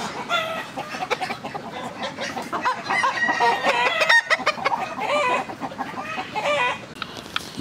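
A rooster crows nearby while several chickens cluck and chatter around it, a busy, close barnyard chorus.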